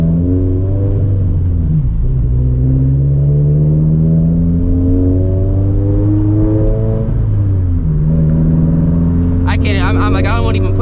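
Turbocharged Toyota FRS with a built FA20 engine on 17 psi boost, a steady low engine drone with rising and falling pitch as it drives, loud and close, with someone talking over it throughout.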